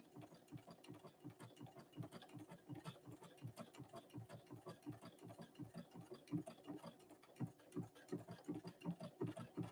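A Brother Innovis 1500D sewing machine runs smoothly, its quick, even needle strokes forming a soft, regular mechanical pulse throughout, quiet and close.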